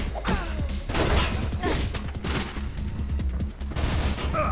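Enemies open fire with guns in Mirror's Edge: a dense, continuous fusillade of overlapping shots and thuds, loud and close, running without a break throughout.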